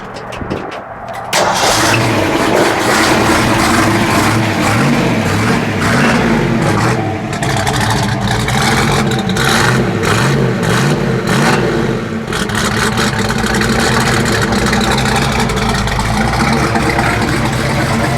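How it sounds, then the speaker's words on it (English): A cold 1970 Ford Mustang Boss 302 with manual choke and an older glass-pack exhaust cranks and fires, then settles into a loud, lumpy idle with repeated throttle blips, close and continuous. "Go ahead and fire it up, Wadey."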